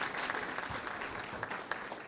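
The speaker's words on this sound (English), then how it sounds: "Let's give her a round of applause." Audience applause at an outdoor groundbreaking ceremony for a new AMC building, a steady wash of clapping from a crowd that holds even throughout, with a few sharper individual claps standing out.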